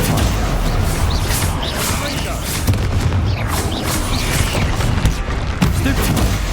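Spell casting and explosions in the Hogwarts Legacy video game sound as repeated booming blasts and sharp magical bursts, dense and loud throughout, with a voice talking over them.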